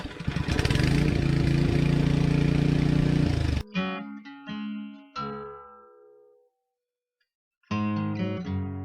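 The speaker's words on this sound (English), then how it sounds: "See if I can get this thing cranked up, and we'll start tilling." A garden tiller engine runs loud and steady at close range, then cuts out abruptly, sputters and dies to silence before roaring back to life.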